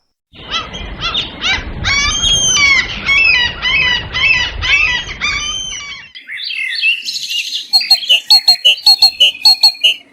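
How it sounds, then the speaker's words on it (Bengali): A sweet, melodic bird call rings out in a deep jungle: a long run of quick, bright chirps and trills, then a short pause, then a series of sharp, evenly spaced whistled notes, close and loud, with no voices. "কি সুন্দর সুর! এমন মিষ্টি ডাক তো আগে কখনো শুনিনি।"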